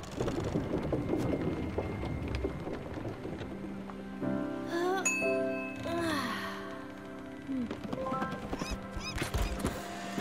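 A bell rings in the video game Spiritfarer, its sustained, ringing tones rising midway over soft rain-like patter and light knocking, then slowly fading; no one speaks.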